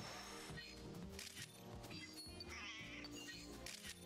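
Meowth meowing in the video game New Pokemon Snap, a cat-like cry repeated over a busy, continuous bed of game music and ambience.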